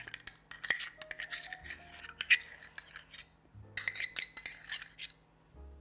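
Scattered light clinks and scrapes of a utensil against a container as sticky date paste is scooped out in a kitchen, soft and close, with short bursts and pauses and no talk.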